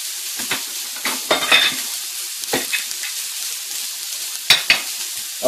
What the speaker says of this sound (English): Now you can hear that cooking.